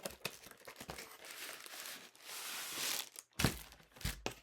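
Packaging for a Stampin' Positioner crinkles and tears in bursts up close, with rustling plastic, a sustained rip, then a few thumps as it is handled.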